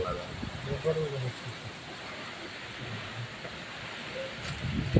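Monsoon rain falls steadily in a village, a soft continuous wash of drops on surfaces with faint voices murmuring underneath and a brief louder patter near the end.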